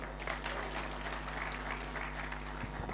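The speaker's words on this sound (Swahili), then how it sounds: "mtumpigie waziri makofi mazuri jameni" Audience applause for a government minister at a formal Kenyan gathering, a steady wash of clapping at moderate volume over a persistent low hum, with no voices.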